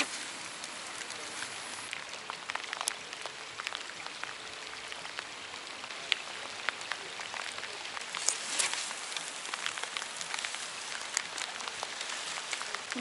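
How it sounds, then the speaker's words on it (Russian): Rain falls steadily at an outdoor fishing spot, a close crackling patter of drops on surfaces with occasional sharper splats, even and continuous with no voices. "Льет дождь."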